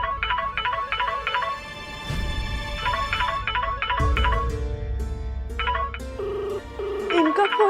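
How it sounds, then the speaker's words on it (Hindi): A mobile phone ringtone plays a repeating melodic tune for an incoming call inside a home, looping steadily and fairly loud, with brief low rumbles and background sound in between. "इनका फोन आ रहा है।"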